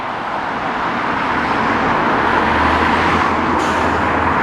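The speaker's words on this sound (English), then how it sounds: "You can hear how much the traffic's increased down this bit of Waterloo Road" Steady road traffic on busy Waterloo Road in Blackpool, cars and heavier vehicles passing close by in a loud continuous roar, with a brief high hiss near the end.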